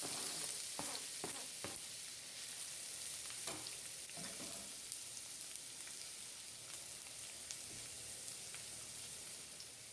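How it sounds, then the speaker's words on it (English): Seasoning sautés in hot oil in a pot for Guyanese-style stewed fish, giving a steady, faint sizzle with scattered small pops and crackles throughout, and no one talking. "this is going to go directly into the oil and saute for about 5 to 10 minutes"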